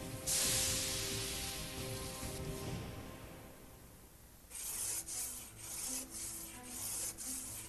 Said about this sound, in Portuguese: ela é limada para se remover a camada externa de carbono deixada pela fornalha a carvão